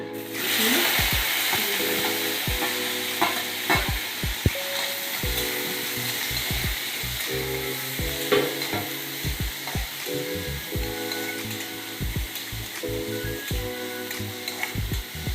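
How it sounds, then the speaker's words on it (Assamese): Steady sizzling of onions frying in a hot pan, with repeated scraping and stirring knocks of a utensil against the pan. "পিঁয়াজখিনি অলপ ভাজি লওঁ"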